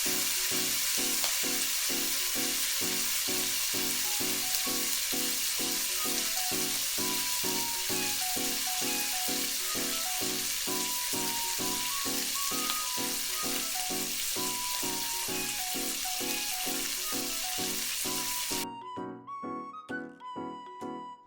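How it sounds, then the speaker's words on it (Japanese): Spinach stir-fries in melted butter in a frying pan, giving a steady, loud sizzle with rhythmic scraping strokes throughout, then cutting off near the end to leave a few quieter sputters. "First, make stir-fried spinach with butter."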